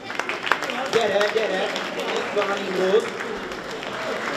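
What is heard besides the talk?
audience applause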